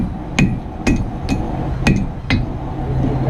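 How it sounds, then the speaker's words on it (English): A blacksmith's hammer strikes a forged knife blade on an anvil to straighten a hammer mark. Six sharp, ringing metallic blows land at an uneven, deliberate pace, close and loud over a steady workshop hum. "I'm going to straighten that little hammer mark out"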